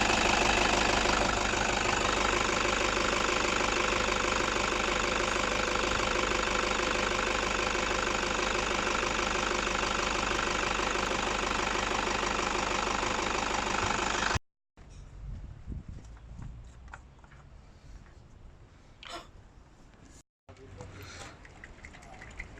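A Toyota Hilux with 297,467 km on it idles steadily for about fourteen seconds with a rough, knocking diesel-like rumble, then the sound drops to a much quieter, sparse background with faint clicks.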